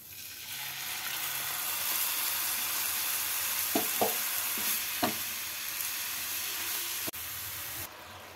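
Grated coconut, jaggery and water cook in a pan with a steady sizzling hiss, broken by a few soft stirring scrapes and clicks near the microphone, with no talking.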